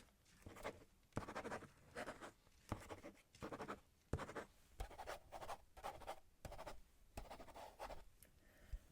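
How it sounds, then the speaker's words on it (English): Pen writing notes on paper during a quiet job interview role-play, close and crisp, with bursts of scratchy strokes separated by short pauses over about nine seconds, no talking. "Let me just write some more notes down and we'll move on to the next question."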